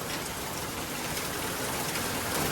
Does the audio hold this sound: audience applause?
no